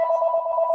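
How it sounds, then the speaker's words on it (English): A telephone rings with a steady electronic tone during a talk on school refusal, sounding close and fairly loud, with no speech over it. "I can't believe my phone is ringing."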